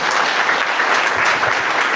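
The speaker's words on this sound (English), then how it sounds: "Please clap for yourselves." Brief, loud applause from a congregation at a pilgrimage service at a shrine, thick steady clapping from many hands filling the moment.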